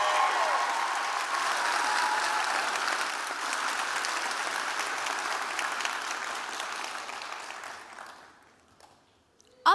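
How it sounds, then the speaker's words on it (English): An audience at a student event claps for a speaker in a sustained round of applause that holds steady for several seconds, then fades out to near silence. "Please give her another round of applause"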